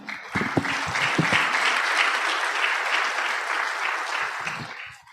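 A church congregation at a sermon breaks into sustained applause, steady clapping from many hands that swells quickly and then fades out near the end.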